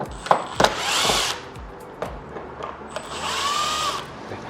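Power screwdriver whirring in two sustained bursts while screws are undone on an LG dual stand air conditioner, with a few clicks and knocks in between, close and fairly loud.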